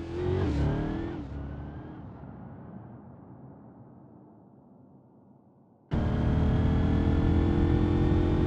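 A Saab car in the driving game BeamNG.Drive, running over big speed bumps: an engine note fades away after a loud start, a near-silent gap follows, then a loud, steady revving engine cuts in abruptly.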